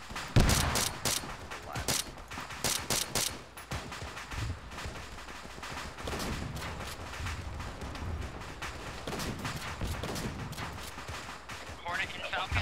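Unsuppressed rifle gunfire in the Arma 3 military video game, with rapid bursts of loud shots early on and then continued distant firing and rumble, while players talk over comms.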